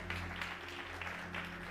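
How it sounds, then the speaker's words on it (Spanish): Church congregation applauding during a Spanish-language sermon, a brief, steady burst of clapping with a low hum underneath. "Dale un fuerte aplauso al Señor."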